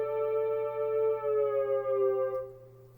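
Roland GO KEYS 3 keyboard tone held as a sustained harmonic note whose pitch slides gradually downward under a pitch bend, steady and close, fading out at the end.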